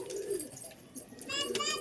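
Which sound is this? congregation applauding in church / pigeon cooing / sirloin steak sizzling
pigeon cooing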